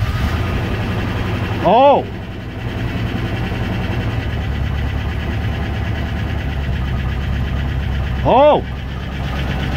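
A 1994 Range Rover engine cranks and catches, then runs at a rough steady idle throughout, loud and close, with a man giving two short surprised exclamations over it.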